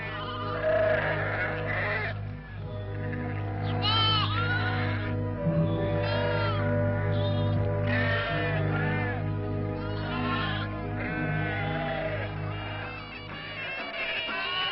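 Sheep bleat repeatedly on a model farm in Djelfa, Algeria, in 1954, over a steady low hum, wavering calls overlapping one another throughout, fairly close and prominent.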